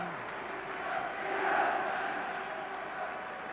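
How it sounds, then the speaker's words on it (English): Crowd at Wembley roaring in support of England during a football match, a steady, broad wash of distant cheering and chanting that swells slightly midway, with no close voices. "The crowd really getting behind England."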